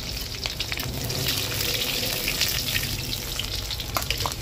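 Five or six garlic cloves fry in oil in a pan, cooking over a wood-fired stove, a dense, close crackling sizzle with spitting pops throughout, steady and fairly loud, with no voice.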